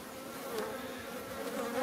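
Buckfast honeybees from swarms created this year buzz steadily at the hive, a close, continuous hum of many insects with no talk.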